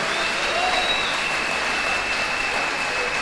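A church congregation applauds steadily to acclaim the Lord, a dense and even wash of clapping that holds at one level throughout, with no talk over it.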